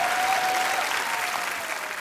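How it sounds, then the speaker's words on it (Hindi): Studio audience applause greeting guests on a televised Hindi comedy talk show, a steady dense clapping crowd sustained throughout, close and loud with no talk over it. "तो आप सबकी जोरदार तालियों के बीच इनवाइट करना चाहूंगा"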